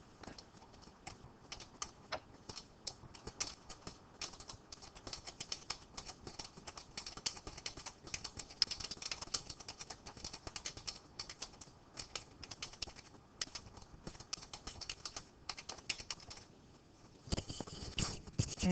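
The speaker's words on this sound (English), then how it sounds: "I'm going to type the answer," Student typing an answer into a Google Classroom question on a computer keyboard: rapid, steady clicking keystrokes run throughout, close and alone with no talk, with a brief pause near the end.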